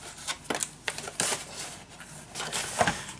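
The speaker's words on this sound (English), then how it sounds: "And then I'm gonna cut the corners." Paper corners for a handmade winter album are trimmed by hand, giving a series of soft, close snips and crisp paper rustles at an uneven pace.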